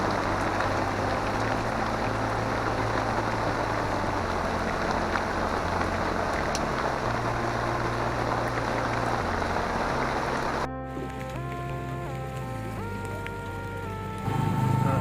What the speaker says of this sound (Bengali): সন্ধ্যার ঠিক একটু আগেই বৃষ্টি নামলো, বৃষ্টির জন্য আমরা কিছুটা সময় দাঁড়িয়েছিলাম।